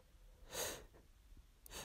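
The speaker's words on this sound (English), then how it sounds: "Sneeze." A person sneezes twice, a short burst near the start and another at the end, faint and close, with soft breathing between.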